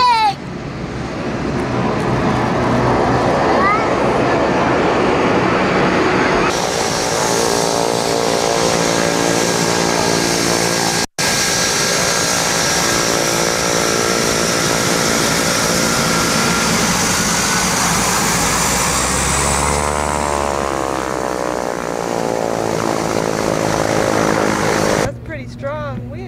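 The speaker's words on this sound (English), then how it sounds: "airplane's coming!" An airplane passes overhead with a loud, sustained droning engine roar that swells and shifts in pitch as it goes by, with voices talking underneath.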